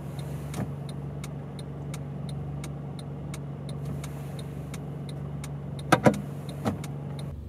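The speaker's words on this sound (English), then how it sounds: "the best way to see a city like Austin is to drive a car" A car drives through Austin streets with a steady, moderate engine hum from inside the cabin, a regular ticking throughout and a few brief sharp knocks near the end, with no talking.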